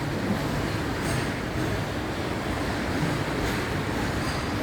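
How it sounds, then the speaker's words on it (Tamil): A train rumbles past in a steady, unbroken roar, heavy low rumbling with a faint hiss on top and no pauses. "எவ்வளோ பெரிய ட்ரெயின்"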